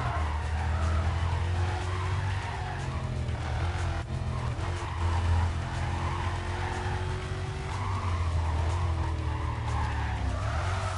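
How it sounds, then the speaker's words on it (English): Car tires squealing in the Need for Speed Carbon racing video game, a continuous loud screech over a steady engine roar that lasts the whole stretch without pause. "Car's just squealing like nuts."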